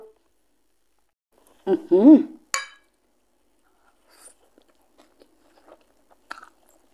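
Crispy batter-fried mussels being eaten, a few crunchy bites and chewing close up, followed by quiet sporadic clinks and mouth sounds with long pauses between them.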